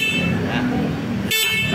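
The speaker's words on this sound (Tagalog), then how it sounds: "Malakas ang busina." The horn of a 2024 Rusi Caruza 200i blares steadily close by, with a sharp shift in tone near the end, under a mix of low engine noise.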